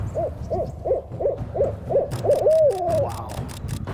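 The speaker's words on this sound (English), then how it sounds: "That is a big barred owl." A barred owl in a backyard gives about seven evenly spaced, loud hoots, then ends with a longer drawn-out, wavering call.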